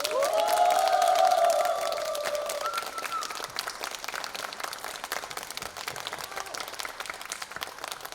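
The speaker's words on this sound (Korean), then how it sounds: "박수가 나올 때까지." Audience applause at a live reading of Kim Yu-jeong's Manmubang, dense clapping from a crowd under a sustained tonal hum that fades after the first two seconds, leaving the clapping to continue steadily and slightly softer.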